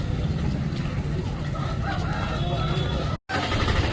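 Rooster at a busy Sunday livestock market in Kothagudem, crowing amid the rumble of the crowd and passing vehicles, with people talking nearby and a brief cut near the end.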